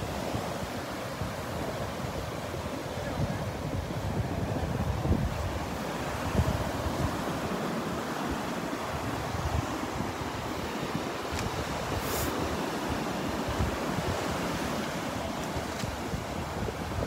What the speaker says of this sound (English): The waves aren't very big today.